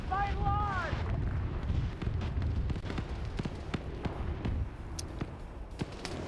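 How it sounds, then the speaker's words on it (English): Rocket strikes and explosions in a combat video game, a rapid series of heavy booms and sharp blasts layered over a constant rumble, with a brief rising whistle near the start. "They rocket struck the players instead of the air defense network."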